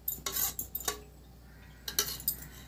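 A metal kadai set down on a kitchen stove for making payasam, producing a few close, bright clanks and scrapes in two short clusters, with quiet room tone between.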